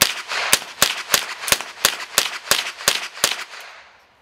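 A modern sporting rifle fires about ten sharp shots in quick, even succession during tactical shooting training, loud and close. Each crack rings out briefly, and the last echo fades after the string ends, with no talking.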